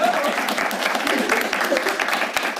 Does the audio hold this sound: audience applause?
yes